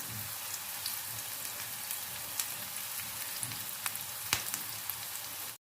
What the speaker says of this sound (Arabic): شايفين كده بدات حطيت اللحمه بتاعتي مع البصل اهو، وهشوح اللحمه بتاعتي